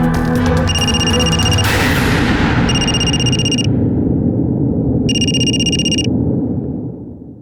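A phone ringback tone plays over a speakerphone after dialing, with repeated electronic ring bursts in an even on-off rhythm above a busy background of muffled room sound.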